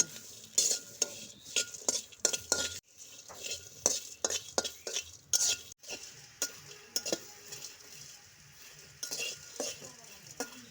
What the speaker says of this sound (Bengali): শুকনো খোলায় রসুনগুলা ভেজে নেব।